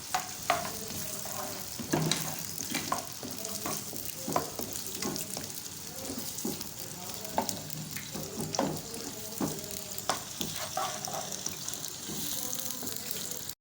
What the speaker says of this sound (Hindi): तो यहाँ ऑयल गर्म हो चुका है और अब हम डालेंगे इसमें प्याज।